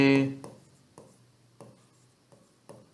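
A pen scratches out short, separate strokes while a geometry reason is written by hand, and a voice is heard briefly at the start.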